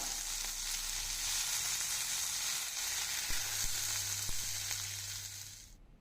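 Mint leaves fry in oil in a pan with a continuous hissing sizzle, close and steady, over a low background hum, with a few soft stirring clicks and no talk.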